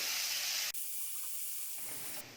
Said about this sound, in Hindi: अब इसमें एक मीडियम साइज का बारीक कटा प्याज डालेंगे। प्याज को भी 1 मिनट तक भूनेंगे।